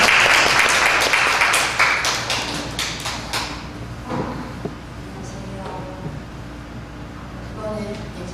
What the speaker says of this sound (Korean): 박수를 좀 가져주세요.